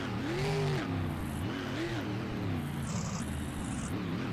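A freestyle off-road race truck at Anaheim, California, its engine revving in rising and falling surges during a jump and landing, with a whining pitch swinging up and down over a steady rumble.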